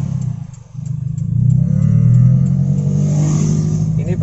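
A car engine dips briefly, then rises in a smooth, strong drone as the vehicle pulls away, loud and close inside the cabin.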